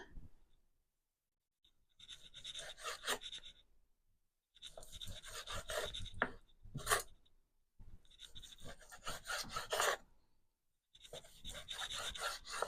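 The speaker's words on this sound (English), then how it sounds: "So all you want to do is slice it up thinly." A knife slices rested beef thinly into strips for a Thai beef salad, giving repeated rasping strokes in several separate bursts with quiet pauses between, close and fairly faint.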